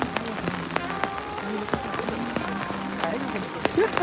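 Heavy rain pours down in a flooded village at Kurund, a dense, continuous patter on surfaces with scattered louder drops, while voices murmur faintly underneath.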